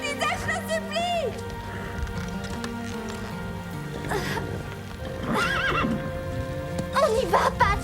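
A cartoon horse whinnies and neighs several times over a busy music bed, with hoofbeats and other effects mixed in and voices briefly present.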